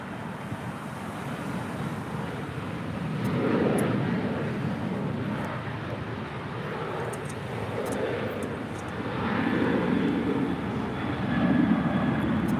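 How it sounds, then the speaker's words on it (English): A WestJet Boeing 737-800 departs LAX on its way to Vancouver. A loud, broad jet roar holds and swells over about thirteen seconds, rising in waves as the engines spool on the takeoff roll. "That departure is WestJet Flight 1697 departing to Vancouver on a 737-800"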